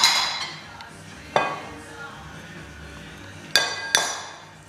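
A spatula scrapes leftover egg yolk from a bowl, bringing soft scraping between three sharp clinks of utensil against the bowl, close and with no talking.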